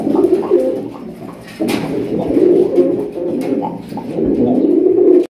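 Strawberry pigeons, a breeding pair, cooing close by in repeated low throaty phrases with short pauses between them.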